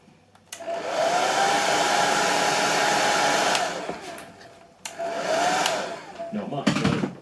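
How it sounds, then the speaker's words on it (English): A hair dryer blows loudly in two bursts, whooshing for about three seconds, pausing, then running again briefly before clicking off. "Or, if you're impatient like me,"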